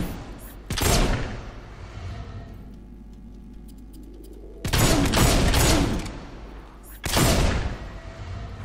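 Gunfire in the video game Fable 2, heard as three loud, dense bursts of rapid shots, each ringing out briefly, separated by quieter stretches of low background rumble and ambience.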